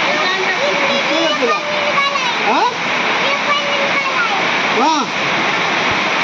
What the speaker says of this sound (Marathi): हे पाणी चाललंय नदीला